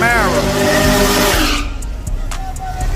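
A Chevrolet Camaro's engine roars loudly and rises in pitch, then drops away as the car passes at a hood track race event, with tire squeal and voices talking underneath.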